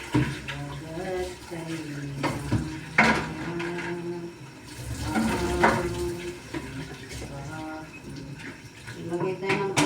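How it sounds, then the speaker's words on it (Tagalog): Water is poured and splashed into a metal pot at home, with clinks and knocks of cookware and gushing bursts between them, while people talk in the background. "Lagay tayo ng tubig guys."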